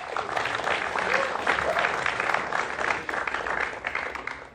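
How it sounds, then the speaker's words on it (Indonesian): Audience at a comedy showcase breaking into dense, continuous applause, loud and steady from start to finish with faint crowd voices mixed in. "boleh tepuk tangannya dulu"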